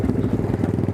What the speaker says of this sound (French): On coupe les moteurs.